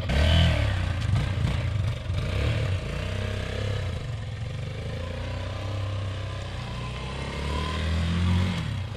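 A Bashan Brozz 250 Chinese dual sport motorcycle runs continuously with a steady, rumbling engine drone that stays close and fairly loud throughout.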